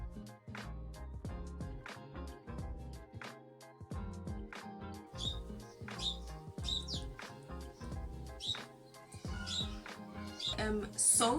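Pet birds chirp and squawk in a busy household, short bright calls scattered intermittently under continuous nearby talking and clattering of household sounds.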